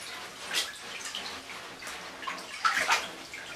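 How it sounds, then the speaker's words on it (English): A person in a bathtub rinses off by dipping down into the bathwater, making soft splashes and sloshing water that swell twice, with no talking. "since I'm in the bathtub, I'm just gonna go ahead and rinse off by dipping down"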